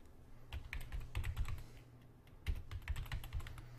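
A computer keyboard clatters with fast, uneven keystrokes as a keyword is typed into SEO research software, close and clear, with a brief pause midway before a second burst of typing.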